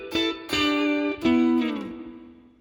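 A short electric guitar lick from a song, played as a lesson example: three plucked, lightly effected notes that ring and slide downward, close and moderately quiet, with no talking.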